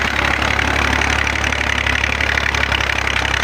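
A tractor engine runs in a field, a loud, close and steady low idling rumble with a faint knock, continuous and with no voices.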